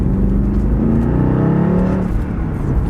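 A naturally aspirated V8 in a Mercedes C63 AMG revs loudly and steadily for about three seconds after a downshift, its deep rumble rising and falling close by, with no one speaking.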